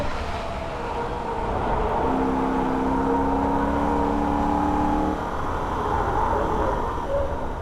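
A Holden VF Ute engine drones and hums at speed during a fast lap of the Nürburgring, the pitch rising and falling as the car brakes and turns through corners, with road and wind noise constant underneath.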